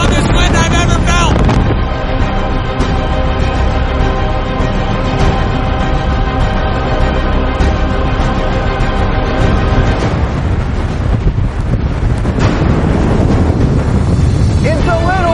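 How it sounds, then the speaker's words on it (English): Loud, relentless wind roaring and buffeting the microphone, a constant rough blast with no letup. "This is the strongest wind I've ever felt!"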